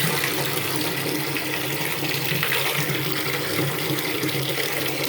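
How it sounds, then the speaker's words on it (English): A bathtub tap gushes steadily into the tub, a constant close hissing rush of water with no pauses and no voices. "Let's turn the water on"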